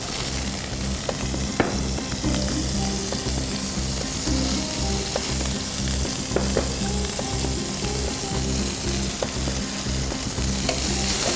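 Teriyaki chicken fries in oil in a pan, a steady loud sizzle with stirring clatter and occasional utensil knocks running throughout, no voices.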